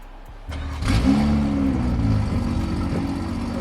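A BMW M3 fitted with a new downpipe revs up close, its engine rising sharply from idle into a loud, rasping rev that holds and then settles into a steady, throaty drone.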